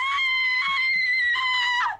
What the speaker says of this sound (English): I thought you said you weren't going to scream.